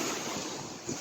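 Waves break on a beach, a steady broadband wash of surf with some wind buffeting, moderately loud and close throughout the brief moment.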